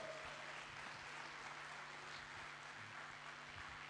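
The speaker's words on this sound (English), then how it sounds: "Yes, you can make that round of applause louder." An audience at an international annual summit claps steadily, a continuous wash of applause that sounds faint and distant throughout, with no clear voices over it.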